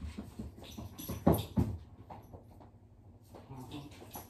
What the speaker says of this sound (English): Come here, puppies.